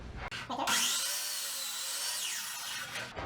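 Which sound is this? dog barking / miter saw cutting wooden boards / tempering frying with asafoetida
miter saw cutting wooden boards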